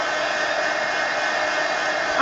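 A hair dryer blowing on wet paint on an art journal page makes a constant, loud, even whir that does not change from start to finish.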